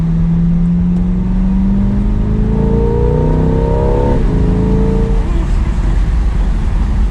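Chevrolet Corvette C8 exhaust while driving, a steady drone that rises in pitch as it accelerates, then drops off and shifts, heard from inside the car amid road noise.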